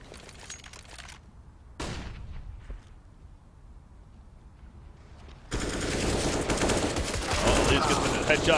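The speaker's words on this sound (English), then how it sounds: "Massive firefight at the B site there" Gunfire erupts in a video game esports match during a firefight at the B site: sharp bursts of automatic fire and single shots, with quieter gaps, then a long dense barrage that builds to the end.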